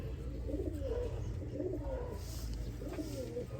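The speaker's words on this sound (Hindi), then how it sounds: "बड़े शौक वाला दोस्तों सियालकोटी कबूतर है।" Sialkoti pigeon cooing close by, three soft rolling coos spaced about a second and a half apart over faint background noise.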